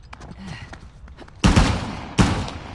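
Gunfire in Uncharted: The Lost Legacy, two loud sharp bursts about a second apart, each trailing off into echoing reverb, after quieter scattered game sounds.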